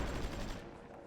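Anti-aircraft guns firing in the strategy game Supreme Ruler Ultimate, a short rattling burst of rapid shots that fades out after about half a second, fairly quiet and distant.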